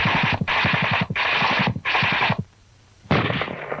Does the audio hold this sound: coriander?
no